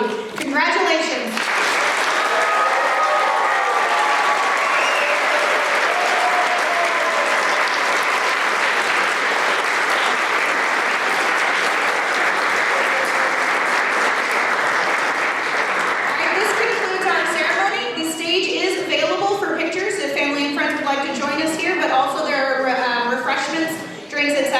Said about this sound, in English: Please join me in one more round of applause for our graduates